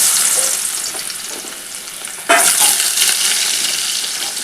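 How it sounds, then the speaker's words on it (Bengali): Potatoes and Malabar spinach stems frying together in hot oil, a steady close sizzle that jumps sharply louder midway as the ingredients hit the pan, then crackles on without any voices. "তেলটা গরম হয়ে গেলে আমি আলুটা আর পুঁই মেচুরিটা একসাথে কিন্তু ভাজবো।"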